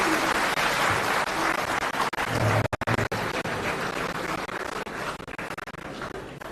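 Loud, dense applause from a crowd of lawyers greeting Arvind Kejriwal at a meeting in Amritsar, Punjab. Near and sustained clapping that fills the whole stretch, briefly dipping in the middle before rolling on.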